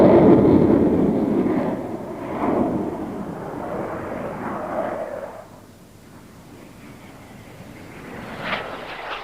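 A fighter jet flies past at the Farnborough 1990 air show with a loud broad roar that fades after about five seconds, then swells slightly again.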